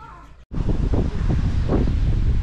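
Strong wind gusts outdoors on a rural farm, roaring steadily into the microphone with a brief dropout near the start, then a continuous loud rush with rumbling low buffeting.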